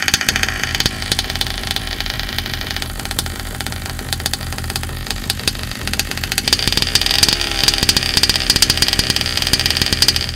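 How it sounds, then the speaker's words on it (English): A two-stroke engine fitted with a 1/5 scale supercharger idles close by, a steady buzzing drone with a busy, uneven beat that brightens slightly toward the end. "Check out this short clip of the engine idling."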